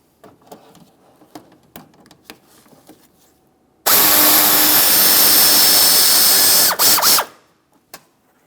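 A ratchet with a 7mm socket loosens bolts during radiator removal on a 2017-2024 GMC Acadia, a loud continuous rapid clicking burst lasting about three seconds, then a few short ratchet strokes after a quiet lead-in of faint handling noises.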